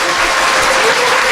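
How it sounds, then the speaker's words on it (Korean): An audience applauds, dense steady clapping filling the whole moment at full volume. "박수 부탁드립니다."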